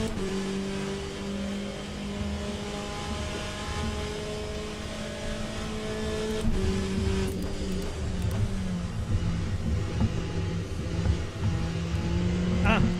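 Porsche hypercar engines hum and rev continuously during a Le Mans Ultimate race, with a car whooshing past midway and the engine note growing louder afterward, a voice talking over parts of it.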